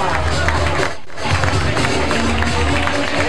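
Loud, dense applause from an audience greeting Agustina at a glam awards ceremony, with steady clapping and crowd noise throughout and a brief dip near the start.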